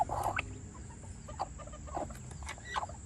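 Newly hatched baby chicks peep in short, high chirps scattered irregularly across a few seconds, close but fairly soft over a faint low background hum.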